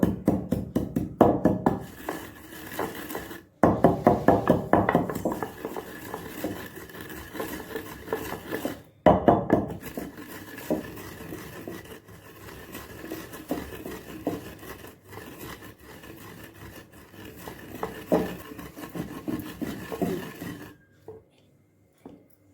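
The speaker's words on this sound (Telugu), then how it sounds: "ఫస్ట్ జీలకర్ర వేసుకుంటున్నాను జీలకర్రని కొంచెము కచ్చపచ్చగా దంచేసుకుందాము" Cumin seeds pounded coarsely in a stone mortar, a run of dense rasping, knocking strikes in bursts with short pauses, close and fairly loud, fading out near the end.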